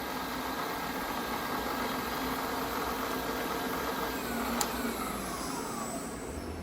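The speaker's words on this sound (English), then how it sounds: "Spindle forward in low gear, 500 RPM." A 2014 Southwestern Industries Trak DPMSX3P CNC bed mill spindle running forward in low gear at 500 RPM, a steady whirring hum with broadband machine noise, constant and close, with a brief faint tick near the end.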